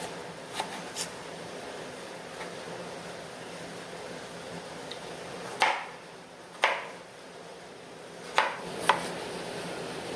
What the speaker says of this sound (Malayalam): നമുക്കിനി കിഴങ്ങരിയാം.